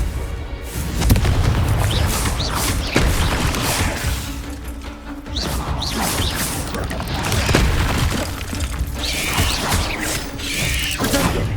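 Confringo fire-blast spells in Hogwarts Legacy combat boom and crash repeatedly amid a dense, noisy mix of clanking impacts and game effects, with a voice calling out spells.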